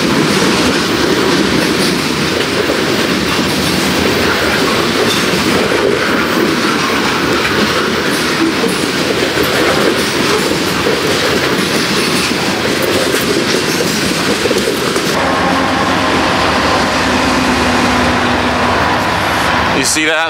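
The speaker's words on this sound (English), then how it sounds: "And there's a train coming." A long freight train rumbles past close by, loud and continuous, with rattling wheels and clickety-clack over the tracks throughout.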